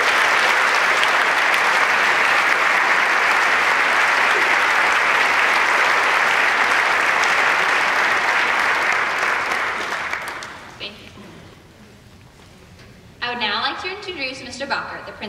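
Sustained applause from a large audience honoring guests at a National Honor Society ceremony, a loud, dense wash of clapping lasting about ten seconds before fading, then a voice begins speaking.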